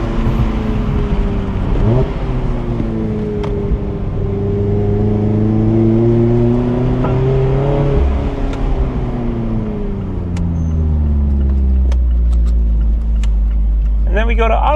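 A Mazda ND Miata on a track accelerates with a loud, close engine whose pitch climbs and falls through gear changes and turns, under someone talking.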